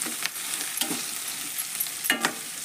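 Cabbage and capsicum fry in oil for a palya, giving a continuous close sizzle with a few clattering stirs from a spoon in the pan.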